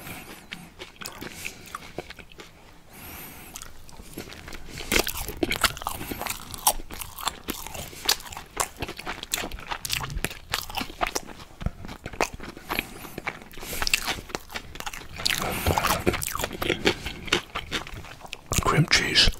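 Someone bites and chews a sushi roll of seaweed, cucumber, mango and fried shrimp up close, with dense crunching and crackling that grows louder and keeps going throughout, with no talking.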